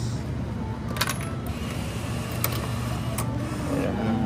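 Coins drop into a payment machine in Kyoto, Japan, landing as a few separate bright clinks about a second apart over a steady mechanical hum.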